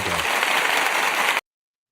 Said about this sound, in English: I like to use that applause sample if you haven't noticed